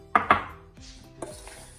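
Biscuits are dropped into dessert glasses for a cold no-bake dessert, giving two quick crisp clinks close together, a softer knock, then another light clink against glass, with no talk.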